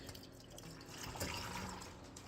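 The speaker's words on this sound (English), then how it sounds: "dump out the water from my cocoa stuff last night" Water from a hot cocoa container being dumped out, a steady splashing pour with faint drips, heard close up and alone for a couple of seconds.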